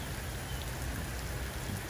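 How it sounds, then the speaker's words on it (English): Heavy rain falls at a steady, dense roar, filling the scene with an even wash of drops and no breaks or voices. "we'd step out, and it would be raining like this"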